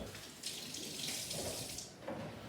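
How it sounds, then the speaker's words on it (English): Running tap water splashing steadily over hands at a kitchen sink during a lasagna-making demonstration, a continuous close hiss with slight shifts in flow as the hands move. "Wash my hands."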